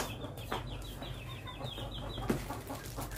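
Imported chickens on a farm cluck softly in short repeated bursts, fairly close, over a steady low background hum.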